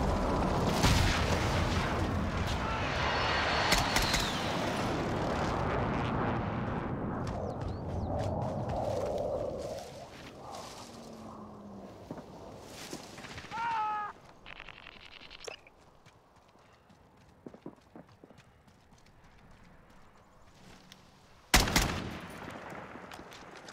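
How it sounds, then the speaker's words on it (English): Precision airstrike explosions in the video game Warzone: a sustained roar of heavy blasts and rumbling booms that fades into scattered softer impacts and debris, then one more sharp, loud explosion near the end. "Friendly precision airstrike inbound."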